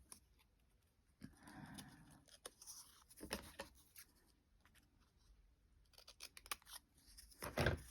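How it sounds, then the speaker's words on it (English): Scissors cutting through folded cardboard, a few scattered snips and rustles that build to a louder crunching cut at the end, close by in a quiet room. "Now I'm going to fold this in half. And cut it."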